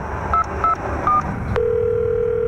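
A payphone is dialed: three short touch-tone beeps sound in quick succession, then a sustained tone holds steady to the end, clear and close.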